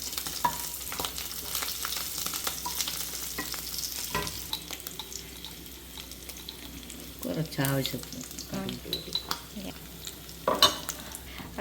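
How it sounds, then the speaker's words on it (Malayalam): Mustard seeds spluttering and popping in hot oil in a pan for mutton curry, a steady sizzle with sharp crackles and stirring clatter, louder bursts near the end, with brief talk over it. "അടുത്ത് നമ്മൾ കടുകിടാൻ പോവാം."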